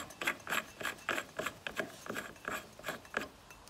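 A flywheel puller being screwed onto a four-stroke motorcycle gives a rapid series of short metallic ratcheting and grinding turns, close and fairly quiet, with no talking.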